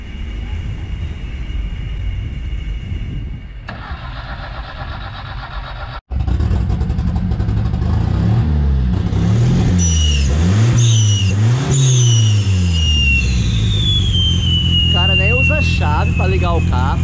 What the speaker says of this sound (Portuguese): Ligar o carro, velho. Porque esse trem é barulhento.